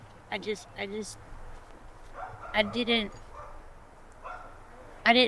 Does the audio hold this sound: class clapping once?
no